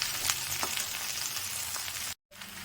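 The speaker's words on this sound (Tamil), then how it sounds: "இதில் முருங்கைக்கீரை போட்டு கொஞ்சம் கொஞ்சமாக நம்ம இதை வதக்கினே இருந்தால் அது வதங்கிடும்" Drumstick leaves being sautéed in a pan, a continuous hiss of frying with soft stirring scrapes, cut by a brief moment of silence before the sizzle returns.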